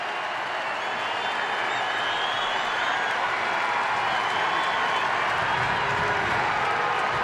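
A large baseball crowd, mostly Red Sox fans, at Boston's game in Baltimore cheers and claps continuously, a dense, steady roar of voices and applause heard from within the stands.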